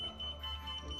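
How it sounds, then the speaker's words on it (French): A voltage tester pen held near an electrical source gives a steady, high-pitched electronic beep. The beep is continuous and faint over a low background hum. "Si je l'approche d'une source électrique, ça va biper rouge"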